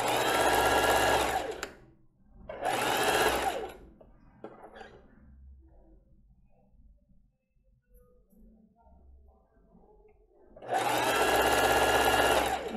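Sewing machine stitching a seam on children's panties, running in three loud, steady bursts at the start, middle and end, with quiet handling of fabric in between.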